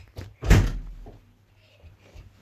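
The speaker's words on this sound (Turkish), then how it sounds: "Kapıyı tam kapat." A door closing in a Roblox Among Us game: a quick soft knock, then a heavier thud, followed by faint low rumbles and near-silence.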